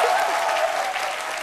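A studio audience on a French midday TV show breaks into dense, steady applause for a guest, loud and close, a brief unbroken burst of clapping with no talk over it.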